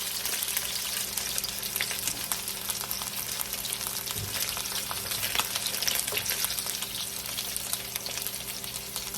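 Chicken fries in a pan with a dense, constant crackling sizzle at close range, with a few light clinks and no speech.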